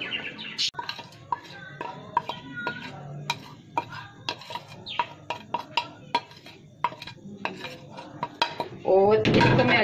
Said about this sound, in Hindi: ये सारा मैं अब इस दही में डालूंगी।